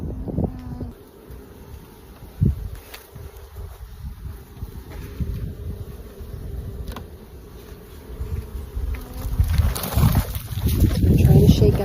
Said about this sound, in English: I'm trying to shake out as much of these bees as I can.